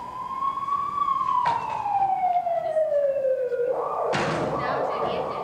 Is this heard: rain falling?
no